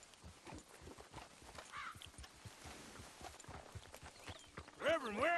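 Horse hooves walking in Red Dead Redemption 2, a steady run of soft clip-clop steps across the clip, faint to moderate, with a louder burst of game sound at the very end.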